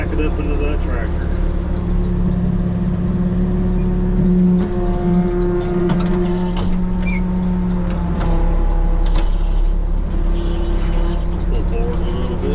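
Farm vehicle engine idling and maneuvering near a tractor while spraying herbicide on soybean fields, a steady loud droning rumble with slight revving throughout.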